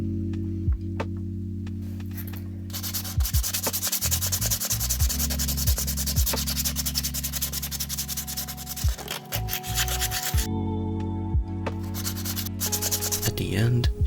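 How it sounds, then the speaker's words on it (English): Sandpaper rubbing over a plastic doll, a continuous rasping scrub repeated in long, steady strokes, close and fairly loud over a low background hum, with a faint tick in places. "I started sanding her with progressively bigger crates of sandpaper"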